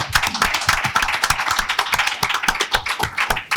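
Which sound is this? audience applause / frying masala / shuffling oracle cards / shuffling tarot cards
audience applause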